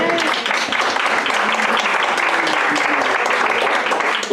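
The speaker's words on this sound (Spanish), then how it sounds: "denle un aplauso al Señor." A church congregation applauds during a Spanish-language sermon, dense steady clapping filling the whole stretch at close range.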